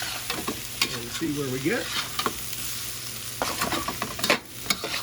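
Fried rice stir-fried in a wok, steady sizzling with repeated scraping and tossing clatters, while a person briefly talks over the cooking.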